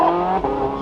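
Porsche 918 Spider launching with all-wheel drive and all four tires gripping, a brief loud engine roar with steady harmonic drone, close and alone with no talk.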